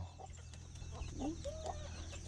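In a rural northern Laos village, a chicken gives a few soft, scattered clucks over a low steady background hum, sounding fairly faint and somewhat distant.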